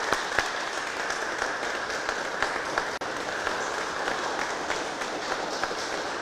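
Steady, even applause from a church congregation welcoming the Virgin of San Juan at a blessing and dress-changing ceremony, continuous and moderately loud throughout with no distinct voices.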